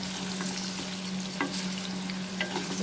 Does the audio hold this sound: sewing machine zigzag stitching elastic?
no